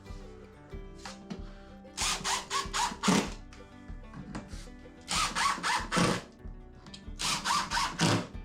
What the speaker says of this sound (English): I'm going to finish putting some screws in that